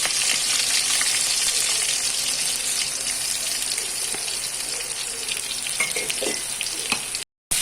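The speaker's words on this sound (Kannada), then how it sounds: "ಈರುಳ್ಳಿಯನ್ನು ಆ್ಯಡ್ ಮಾಡಿದ ನಂತರ ಒಂದು ಸ್ವಲ್ಪ ಫ್ರೈ ಮಾಡಬೇಕು" Chopped onion frying in a pan for Bangude Pulimunchi, a Mangalorean mackerel fish curry, giving a loud, steady hiss and sizzle with a little stirring throughout, broken by a brief dropout near the end.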